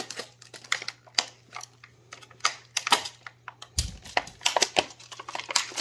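Plastic bubble pack is cut and torn open close by while installing a USB wall outlet, producing irregular sharp crinkles, snaps and clicks in quick bursts, with a low thud partway through.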